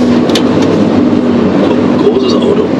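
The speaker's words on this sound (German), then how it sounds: "Großes Auto. Traktor." A tractor passes nearby on a cold road, its heavy engine rumbling steadily and loudly the whole time, with no talk over it.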